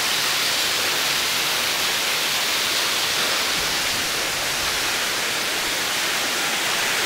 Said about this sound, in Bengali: এই দেখুন আমার সামনে ফলস, এই আমার সামনে ফলস, জল পড়ছে দেখুন।